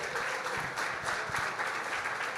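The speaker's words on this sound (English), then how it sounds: "Let's give it up for Governor Polis, please. Round of applause." An audience at a Colorado technology event gives Governor Polis a round of applause. Steady, moderately loud crowd clapping fills the whole stretch with no pauses.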